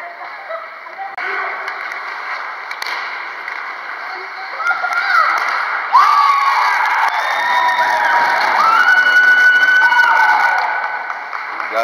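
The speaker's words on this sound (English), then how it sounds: "And the crowd goes wild." Crowd noise at an ice hockey game, with cheering, whoops and shouting that rise and swell over twelve seconds. Voices carry throughout, and the loudest stretch comes near the end.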